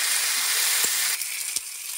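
Ground spice paste hitting hot oil gives a bright, steady sizzle with a crackling hiss, broken by a couple of sharp pops and clinks.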